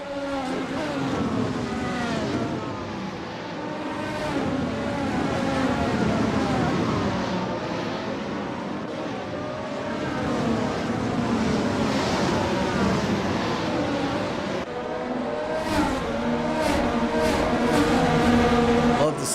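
Race cars roar past on a track during a 50-lap race, engines rising and falling as they pass, steady and fairly close with loud revving throughout.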